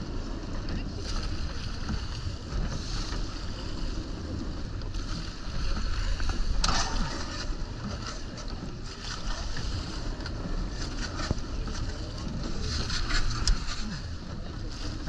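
A women's racing rowing crew driving their boat through the water during a state rowing race, with rushing hull wash, splashy rhythmic stroke surges and wind noise, while a voice calls out over it intermittently.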